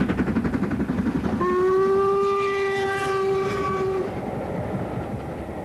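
A steam locomotive on the West Highland Line chuffs rhythmically nearby, then sounds a steady, shrill whistle for a few seconds as the train rumbles on.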